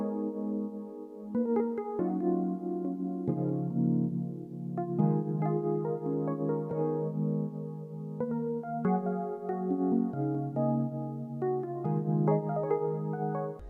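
Electric piano chords for a pluggnb beat made in FL Studio, a slow progression of sustained, soft-attack chords changing every second or two, steady and upfront, with no voices.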